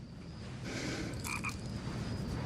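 A frog croaks in a few short bursts at moderate volume over a steady background hiss, with no talking.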